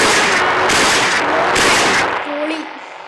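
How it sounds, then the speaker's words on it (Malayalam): Gunfire in the Indian Car and Bike Driving mobile game rings out as several loud, close bursts of shots that cut off abruptly, followed by quieter tonal game sounds trailing away. "നമുക്കൊന്ന് വെടി വെച്ച് ടെസ്റ്റ് ചെയ്ത് നോക്കാം"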